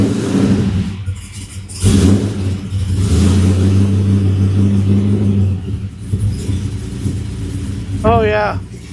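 A 5.3 LS V8 swapped into a Dodge Dakota cranks and fires, then holds a steady rumbling idle with a brief rev; a person talks over the running engine near the end.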